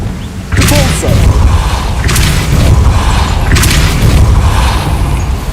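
The Compulso spell in Hogwarts Legacy lands as loud, heavy booming blasts with whooshing bursts, several impacts rolling one after another over a dense rumbling game background.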